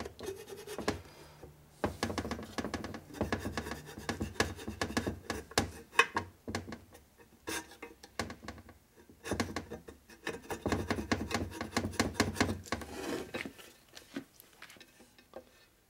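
Hand scraping of old gasket residue off a 1972 Harley-Davidson Sportster ironhead engine case, heard as close, irregular rasping strokes in bursts with short pauses between them.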